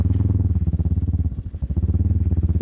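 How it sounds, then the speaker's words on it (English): TVS Apache motorcycle engine idling and revving on a hot road in Ethiopia, a steady close, loud low rumble with a brief throttle change mid-clip before the even putter resumes. "This is our bike"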